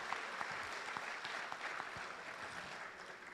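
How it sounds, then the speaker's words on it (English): An audience at an annual awards night applauds a speaker with a dense round of clapping. It is fairly distant and steady throughout, and no one talks over it. "So let's give John a real round of applause."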